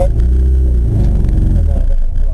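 A manual-transmission car engine revs gently at low pitch inside the cabin, a loud steady rumble that swells slightly as it is given gas.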